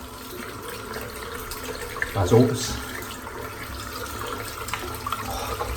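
A hot water tap runs while soap lather is rinsed off, a soft continuous splash with a brief louder gush midway, under a man's speech.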